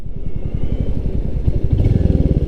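Royal Enfield Meteor 350 motorcycle on a test ride, its single-cylinder engine thumping loudly and close in a fast, even rhythm, with a slight rise in revs near the end.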